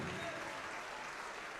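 Church congregation applauding in a continuous, even wash of clapping, fairly distant and soft, with no break across the short stretch.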